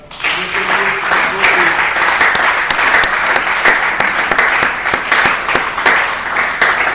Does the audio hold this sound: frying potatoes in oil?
no